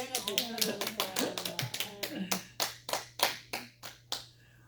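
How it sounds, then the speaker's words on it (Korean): A church congregation rises for a standing ovation, giving a run of separate, close claps that begins under chatter and talk and thins into scattered sharp individual claps toward the end. "기립박수 한번."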